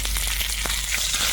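Green chilies frying in hot oil for a vegetarian tempering, a dense continuous sizzle and crackle, close and fairly loud, with no talk.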